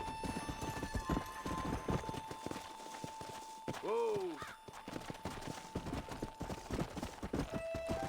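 Horse hooves clip-clopping across the ground in the Western video game Red Dead Redemption, a steady close rhythm beneath game ambience, with a brief whinny-like call around the midpoint and occasional voices.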